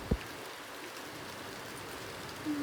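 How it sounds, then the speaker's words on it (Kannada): Rain falls outside as a faint, even hiss that continues steadily, with a single soft knock near the start. "ನಾನು ಮಳೆ ನೋಡ್ತಾ ಇದೀನಿ"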